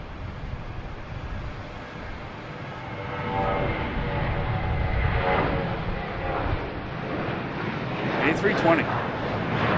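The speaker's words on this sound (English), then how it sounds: "We got JetBlue heading to Phoenix." A JetBlue Airbus A320 bound for Phoenix rolls out at Boston Logan Airport with a broad, steady jet rumble that swells in the middle and stays moderately loud, and brief speech comes in toward the end.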